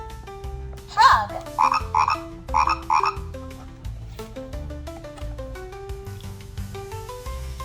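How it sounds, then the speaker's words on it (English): Frog croaks, several short rasping calls in a quick cluster, heard over bouncy background music with no speech. "Frog."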